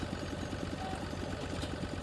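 Tractor engine idling in a farming video game, a steady low mechanical rumble with a fast regular pulse, running continuously at an even level with no talk over it.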